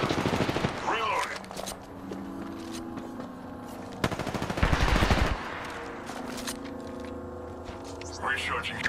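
Automatic gunfire in the shooter game Apex Legends, with rapid bursts and a heavy, loud volley near the middle, layered over steady background game sound and ambient hum.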